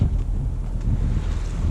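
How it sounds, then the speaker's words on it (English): A sailboat named Mutiny glides through mirror-still water, with a steady low rush of hull and water mixed with heavy wind buffeting the microphone throughout. "Our mutiny cutting through the water, cutting through the mirror."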